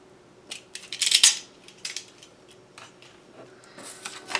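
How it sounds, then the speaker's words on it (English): Craft knife blade drawn along a marked line on card, giving a few scratchy scraping strokes with a sharper burst early on, close up over faint background hum, no talking. "follow that line with my knife."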